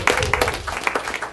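A church congregation breaks into a short burst of clapping during a full service, several quick, crisp claps overlapping briefly in a lively, uneven patter.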